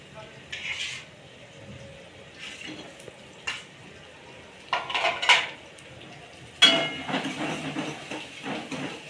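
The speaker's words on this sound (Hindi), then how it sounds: "अम्मी जी ने फ़ौरन हंडिया रख ली है खाने के लिए।" A cooking pot set down and handled in a simple mud-house kitchen in rural Pakistan, giving intermittent close metallic clinks and knocks of pots and utensils over a quiet background.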